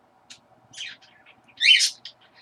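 Close bird chirps come in short, uneven bursts, building to one louder squawking call before trailing off into lighter tweets.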